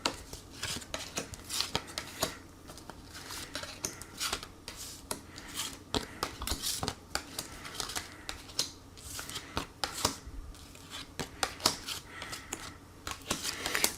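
A deck of tarot cards is shuffled for a reading, giving a steady run of soft, close riffling and tapping clicks that continues for many seconds without speech.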